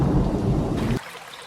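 Thunderstorm sound effect with heavy rain and a deep rumble of thunder, loud and dense, then cutting off sharply into near silence partway through.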